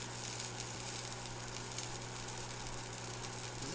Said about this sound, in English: you're going to want to turn this pan to medium because we're going to deglaze